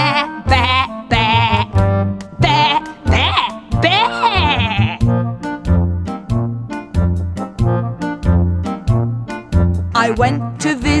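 Rhythmic children's song with a steady bouncy beat and singing, where voices imitate a sheep's bleat in long wavering cries.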